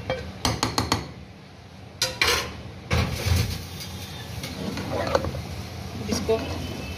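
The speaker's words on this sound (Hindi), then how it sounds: "इस प्याज को इस भिंडी गोश्त में हम मिक्स कर देंगे।" A metal spoon clinks and scrapes against a pot while fried onions are mixed into okra meat curry, with irregular knocks and stirring clatter under a person talking.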